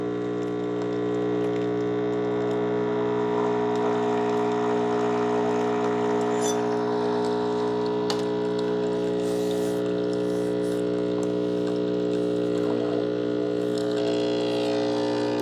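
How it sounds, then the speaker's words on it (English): A Hamilton Beach FlexBrew 49930 espresso and K-cup coffee maker runs its pump loudly, a steady droning hum with strong tonal overtones holding for the whole stretch, close and continuous with no talk. "I'm not used to a Keurig or a K-cup machine being this loud, but it's that pump that they need for the espresso side."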